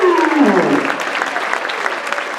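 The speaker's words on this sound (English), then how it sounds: "Give them a round of applause, folks." Audience applause at a school winter concert, steady and fairly loud, with a voice and a falling tone audible at the start.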